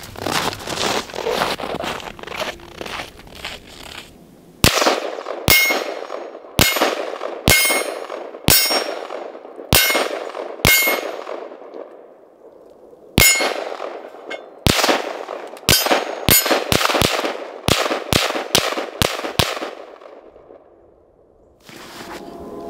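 Zastava ZPAPM70 rifle fired in the snow, sending a rapid string of sharp, loud shots, each followed by a bright metallic clang of steel ringing off the target, with brief pauses between bursts before the magazine runs dry.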